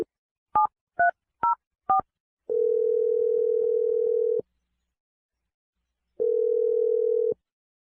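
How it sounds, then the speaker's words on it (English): A phone number is dialed on a telephone keypad: five quick tone beeps in an uneven rhythm, then two long steady ringing tones with a silent gap between them. The sound is clear and close, with no talking. "We're going to dial Eric's phone number right now."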